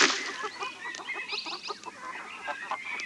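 Chickens in a farm coop in a 1999 children's CD-ROM game clucking and squawking in quick, busy bursts, close and fairly loud, with goose-like honking calls mixed in.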